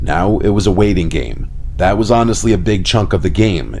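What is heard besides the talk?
No everyday noise stands out behind the speech.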